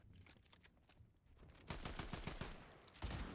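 Automatic gunfire in the Fortnite video game, rapid bursts of shots that grow louder and denser partway through, close and loud, with no talking.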